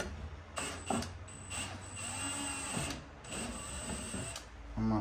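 A power driver runs in several whirring bursts, driving screws to fasten a metal plate during a Chevrolet Suburban to International Travelall body swap, with brief pauses and ratcheting clicks between runs.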